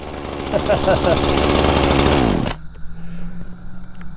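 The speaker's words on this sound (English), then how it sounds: "Okay, so it's running." A chainsaw engine, fitted with new hoses and a new carburetor, runs loud and close, then abruptly cuts out, leaving quieter background noise.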